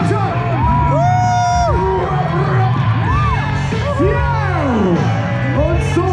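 Crowd at a mountain bike stunt show in Zürich shouting, whooping and cheering loudly and continuously, with rising and falling yells throughout and a voice speaking among them.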